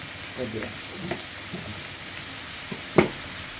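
Onions sizzle in a pan with soft, irregular crackles and a few scraping stirs, ending in one sharper clack of a utensil; steady background hiss, nearby and moderately loud, no talking.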